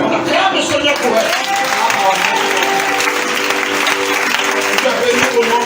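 Loud, sustained applause rises from a church congregation acclaiming the Lord during an Easter service, with voices mixed into the clapping.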